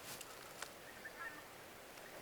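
Geese call in the woods along the Current River in the Ozarks, a few faint, distant honks rising briefly over quiet outdoor ambience.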